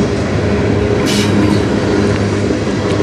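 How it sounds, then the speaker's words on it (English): A train rolls out of a tunnel on the Strathroy Subdivision near Sarnia, a steady loud rumble of railcars and wheels filling the whole stretch, with a brief brighter hiss midway and no voices. "this is the second train from the tunnel in like 15 minutes"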